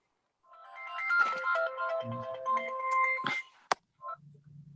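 A phone's melodic ringtone sounds during a town historic district commission meeting, a fairly quiet tune of several notes running for about three seconds, followed by a brief click and a low hum.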